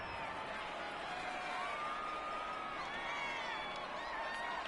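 A stadium crowd in an American football video game featuring the Cowboys makes a steady, distant murmur that swells faintly now and then, with no single cheer standing out.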